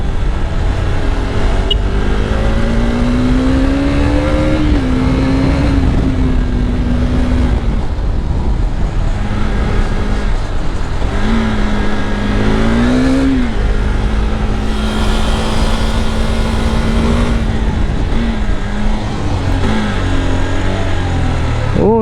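A 2022 KTM RC390 BS6 motorcycle engine accelerates while riding, loud and close, its pitch rising and falling repeatedly through gear shifts over steady wind and road noise.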